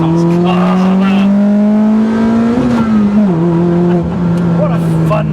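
A cammed Citroen C2 rally tribute car revs hard nearby, its throaty engine note climbing and holding high before dipping and rising again, loud and sustained, with people talking over it.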